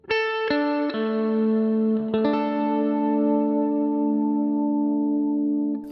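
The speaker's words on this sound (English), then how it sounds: "if I listen carefully to the Strymon, there seems to be a bit of modulation on this" An electric guitar through a Strymon Big Sky reverb pedal with modulation, a few plucked notes and chords ringing into a long shimmering wash that sustains and slowly decays, played alone without speech.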